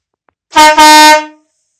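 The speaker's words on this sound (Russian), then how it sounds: "Пневмогудок намного громче работает, намного басистее и слышно даже с соседней улицы." A single loud, deep pneumatic air horn blast with a brief dip partway through, then a short fading tail.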